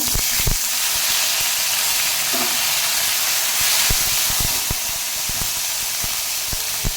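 Cumin paste is sautéed in a pan, giving a loud, continuous, close hiss and sizzle with a few sharp pops and clicks scattered through it and no voices.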